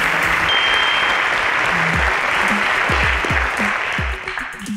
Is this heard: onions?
no